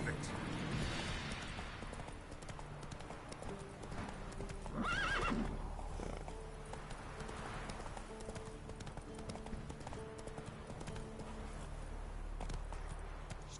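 Roach the horse clip-clops along steadily in The Witcher 3, hooves close and rhythmic, with a whinny partway through and game speech and music beneath.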